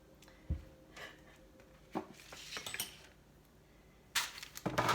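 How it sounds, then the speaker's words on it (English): Falafel mixture being scooped onto a pan, a series of close, irregular clinks and scrapes of utensil against metal, with a louder clattering burst near the end. "let's just scoop it onto the pan"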